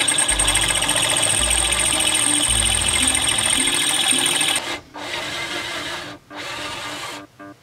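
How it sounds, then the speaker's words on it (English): A drill bores a hole through a steel camshaft clamped horizontally in a vise, a loud continuous grinding whine with a low motor hum, then it cuts off and restarts in two shorter bursts. "we are going to attempt to drill it completely straight"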